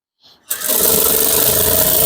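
A sewing machine runs steadily while stitching Ankara fabric along a seam for a men's top, a continuous close whirring hum that starts after a brief faint noise and holds at an even loud level.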